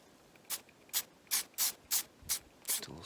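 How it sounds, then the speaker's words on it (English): Short hissing bursts of Nose Jammer scent spray misted outdoors in the dark: about seven quick, evenly spaced spritzes, close and crisp over a quiet background. "Just a little spritz."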